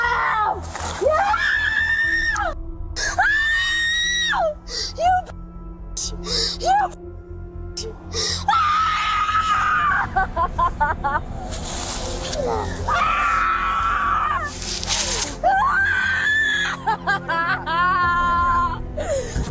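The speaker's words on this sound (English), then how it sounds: "After more screaming," Loud, repeated screaming from a 19-year-old woman during a police arrest, shrill wailing bursts with whimpering between, mixed with other voices talking throughout.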